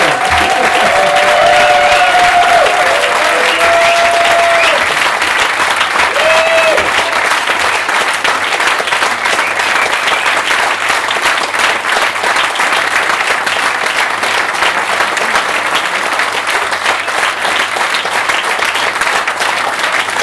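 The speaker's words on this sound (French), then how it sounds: "Je pense qu'on peut applaudir Mathieu" An audience at the Cannes 2017 cocktail awards show applauds steadily and loudly for a long stretch, with a few voices and cheers rising over the clapping at the start.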